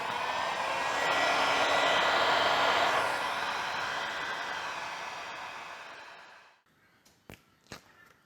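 A hot air gun blows onto heat shrink wrapped over an epoxy mandrel, a loud steady rushing whoosh that swells, holds and then fades out, followed by a few faint clicks and taps.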